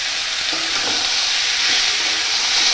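A mashed dal mixture hits a hot pan and fries with a loud, steady, close-up sizzle that holds at even strength throughout.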